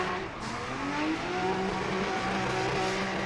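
A drift car slides around the high bank of a speedway oval with its tires smoking, engine droning steadily at high revs with rising pitch sweeps under a constant wash of tire and crowd noise.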